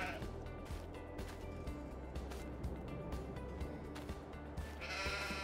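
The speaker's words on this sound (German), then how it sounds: "Und hier haben wir die Schafe." Sheep bleat repeatedly in Farming Simulator 22 over a dense, steady hum of machinery and ambient noise, the calls blending into the continuous background.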